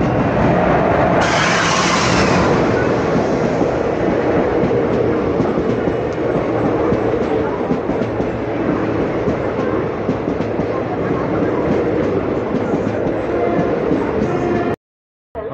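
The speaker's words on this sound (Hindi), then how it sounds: "तो ये आ रही है जोलारपेटाई से चेन्नई सेंट्रल जाने वाली येलागिरी एक्सप्रेस।" The Yelagiri Express from Jolarpettai to Chennai Central rolls past at a station, a loud, steady rumble and clatter of wheels and carriages close by for the whole length, cutting off abruptly near the end.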